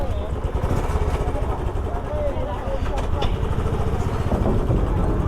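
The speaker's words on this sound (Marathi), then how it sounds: "बाईक स्टार्ट करूया आणि निघूया आपण इथून" A motorcycle engine rumbles steadily as bikes are driven off a ferry boat on the Konkan coast near Jaigad, with people talking over the continuous engine noise.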